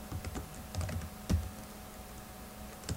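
Quick bursts of typing on a computer keyboard while entering text in Word 2013: soft, close clicks in an irregular cluster, then sparser taps before a pause.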